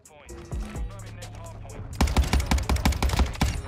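Cronen Squall rifle fire in the video game Modern Warfare II: a rapid, loud string of close shots in the second half, after a quieter stretch of game sounds.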